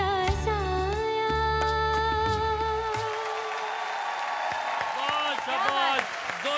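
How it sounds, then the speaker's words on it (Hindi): Studio audience applause on a televised singing competition stage bursts out as a song's last sustained notes fade, a dense continuous clatter of clapping that carries on alone and fairly loud after the music stops. "जोरदार तालियां"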